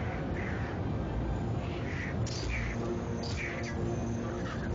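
A bird caws in the Zelda game Twilight Princess, giving several harsh, scattered calls over a steady low game background.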